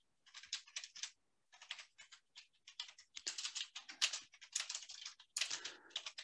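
Fingers type on a computer keyboard while entering Linux commands at a command line, producing quick clusters of light key clicks in irregular bursts with short gaps, close and fairly quiet.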